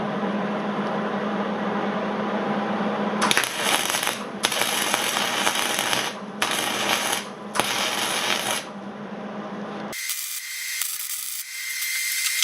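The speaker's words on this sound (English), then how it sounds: "So I'm going to weld there" Welding a plate on a Case 430 tractor: several bursts of loud crackling, hissing arc sound start and stop over a low steady hum, followed by a quieter buzzing tone.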